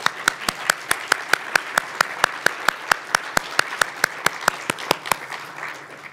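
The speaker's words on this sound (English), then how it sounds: "So let's give them a round of applause." An audience at the Govmaker 2017 event claps for the team, with sharp, evenly spaced claps standing out over a softer bed of applause that fades toward the end.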